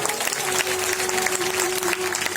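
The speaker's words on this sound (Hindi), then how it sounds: "जरा एक बार ताली बजा" Audience at a Hindu Bhagavat Katha religious discourse claps together in a steady, dense wash of applause that fills the short moment without a break, with no speech over it.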